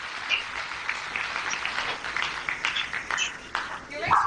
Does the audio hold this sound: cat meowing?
no